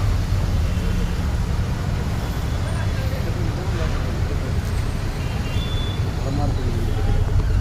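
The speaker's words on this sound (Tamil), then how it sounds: "டிராஃபிக்கை பாருங்கள் ஃப்ரெண்ட்ஸ்." Steady roadway traffic of cars, buses and trucks moving through rain-flooded streets in Ludhiana, Punjab, a continuous loud rumble with wet hiss and occasional brake sounds, and someone talking over it.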